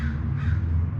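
A single loud, harsh caw from a crow, close by and alone.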